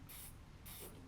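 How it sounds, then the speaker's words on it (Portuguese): Two short hissing bursts from a spray paint can used for urban art, close and clear, separated by a brief pause. "eu poderia vir com spray"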